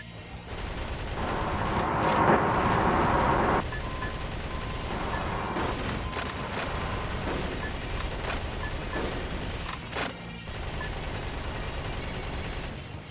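Gunfire and missile blasts from FromSoftware's mech action game Metal Wolf Chaos XD, a dense, continuous barrage of shots and booming explosions rumbling on for over ten seconds.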